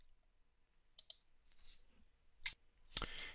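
Computer mouse clicks, a few crisp separate clicks spaced irregularly and then a quick cluster near the end, close and quiet against a faint room hush.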